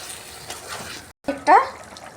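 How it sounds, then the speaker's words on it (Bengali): Water poured into a pan of beans and paneer, heard as a brief splash and gurgle with a short gap before a louder pour. Close and fairly soft. "কষানো হয়ে গেছে, আমি জল দিয়ে দেবো।"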